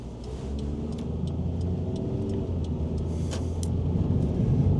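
1997 Toyota Corolla Spacio cruising along, a steady low engine and road rumble heard from inside the cabin, with faint clicks and a gradual slight swell in loudness.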